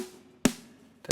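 Two crisp snare drum hits about half a second apart, high-passed around 78 Hz, bright and snappy with thin low end and a short reverb tail, against a quiet background.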